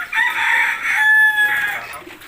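A chicken gives a long, loud crowing call that holds steady for about two seconds and then fades, heard up close with little else around.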